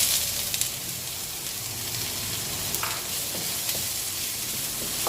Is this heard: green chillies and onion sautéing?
yes